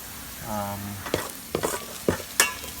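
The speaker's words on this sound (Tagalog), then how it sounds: "pwede nang igisa yung ahos tsaka Bombay" Garlic and onion sizzle and clatter in a pan, with a few sharp scraping stirs and a brief tonal hum early on; no one speaks.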